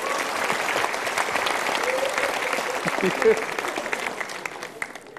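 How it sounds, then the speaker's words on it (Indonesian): Studio audience applause at a Golden Ways talk show, a loud, continuous wash of many hands clapping that holds steady throughout. "kita berikan tepuk tangan dulu"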